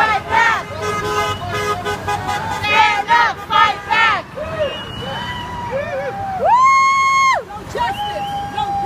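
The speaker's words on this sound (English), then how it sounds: "A lot of people honking." Car horns toot repeatedly at a street rally against racism in Springfield, with several sustained honks and short beeps over crowd chanting and shouting nearby.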